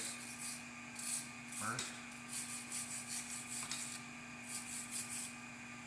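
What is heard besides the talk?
brushing flux core weld coating off moped kickstand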